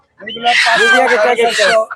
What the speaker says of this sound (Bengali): আরো মোরগ মোরগ আছে এই যে দেখুন